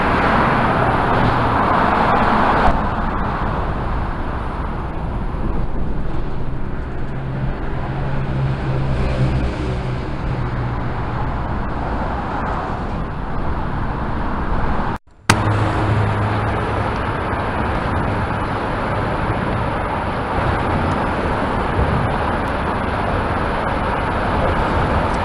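Steady, loud road traffic roars across a bridge, a continuous broadband rumble of passing vehicles with little variation, heard alone without talk.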